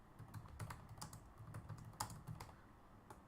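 Quiet, close-up typing on a computer keyboard while writing C++ code, with a run of soft, irregular key clicks and one slightly sharper press.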